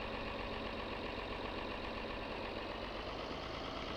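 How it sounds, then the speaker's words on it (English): A tractor engine idles close by, a steady low rumbling drone that holds constant throughout with no voices. "Try not to rev the tractor up too much here."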